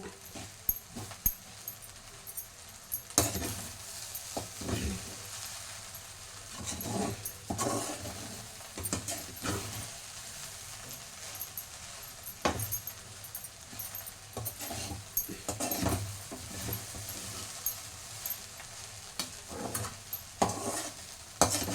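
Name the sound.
stirring chicken fried rice in a pan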